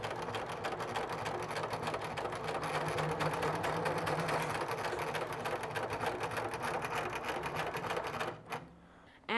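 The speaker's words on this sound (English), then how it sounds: "Let's get started, let's start sewing it." Sewing machine stitching steadily along a marked line, a smooth, continuous, close mechanical whir with fast rapid needle rhythm running almost the whole time before stopping near the end.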